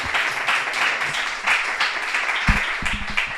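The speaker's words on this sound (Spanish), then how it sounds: "un aplauso fuerte" Live-audience applause at a podcast recording, a steady wash of many hands clapping close by with a few low thumps near the end.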